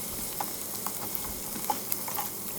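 Diced onion and celery are stirred and sautéed in a pan: a soft, continuous sizzle broken by light scraping and clicking strokes from the stirring, close and fairly quiet, with no talking.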